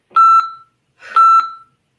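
A Tabata workout interval timer gives two loud, close electronic beeps about a second apart, each short and sharp, with no talking over them.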